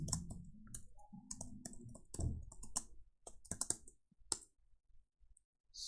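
Computer keyboard keys clatter in quick, uneven bursts while someone types JavaScript and jQuery code, with a low hum beneath the early strokes before the keystrokes thin out into sparse single clicks.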